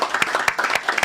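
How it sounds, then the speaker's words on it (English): Short burst of audience applause at a Birmingham City fans' talk show, scattered claps building into a brief round, fairly close and moderately loud. "Round of applause for that."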